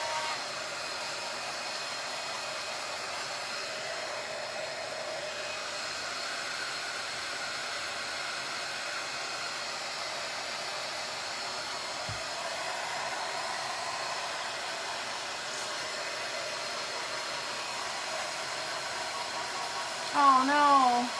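A hair dryer blows steadily at close range over a Mod Podge craft project on a large oval frame, giving a constant even whoosh for the whole stretch, with a brief knock or handling sound partway through.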